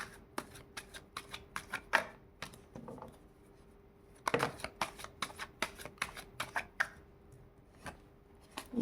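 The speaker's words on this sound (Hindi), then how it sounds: "थोड़े से और शफल करते हैं।" Tarot cards shuffled by hand in a quiet room, a steady run of crisp riffling flutters and soft slaps, close and clear, with a brief pause before a louder burst of shuffling.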